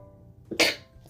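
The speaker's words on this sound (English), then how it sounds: "I have to sneeze." A single short sneeze bursts out sharply after a brief inhaled catch, close to the microphone, in a quiet indoor room with faint background hum.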